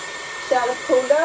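A Dyson Airwrap hair styler blows a steady stream of air, close and continuous, with a few brief bursts in which the flow swells and shifts.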